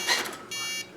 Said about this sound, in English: As you notice, it did 3 beeps.